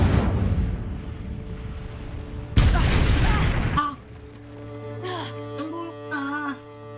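Incendio fire spell cast in the video game Hogwarts Legacy: a sudden loud whooshing burst of flame and crackle lasting about a second, followed by softer magical shimmering tones and background game music, with a voice speaking throughout.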